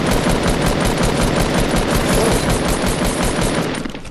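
A Fortnite turret gun firing continuously, a loud, steady stream of rapid shots that holds for several seconds before easing off slightly at the end.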